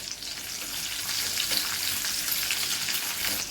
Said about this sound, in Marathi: आपलं तेल तापलंय, तेलामध्ये जिरा, त्यामध्ये लसूण टाकूया।